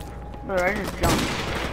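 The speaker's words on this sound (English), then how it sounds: "Nice little heavy shot. An Uzi." Uzi gunfire in Call of Duty Modern Warfare Remastered comes as a short, loud burst of rapid shots, mixed with game sounds and brief voice chat.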